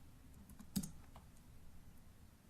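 Keys clack on a computer keyboard as a file name is typed, a quick cluster of faint clicks with one sharper tap standing out against a quiet room hum.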